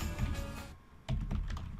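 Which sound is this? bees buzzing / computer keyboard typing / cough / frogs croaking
computer keyboard typing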